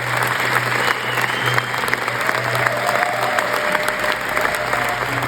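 Audience applause at the close of a film screening of Ainda Estou Aqui, a dense, steady wash of many hands clapping throughout, loud and sustained with a faint low hum beneath.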